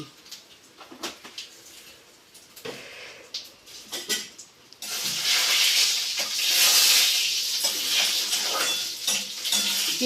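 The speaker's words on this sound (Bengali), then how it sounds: "বড়িটাকেও ভেজে নিচ্ছি" Dried lentil dumplings (bori) fry in a pan, with scattered stirring clinks and scrapes followed by a loud, steady sizzle that fills the second half.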